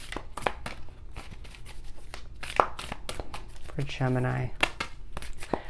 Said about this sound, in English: Pulling from the Spirit Animal Oracle deck to begin for Gemini.